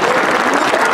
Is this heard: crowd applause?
yes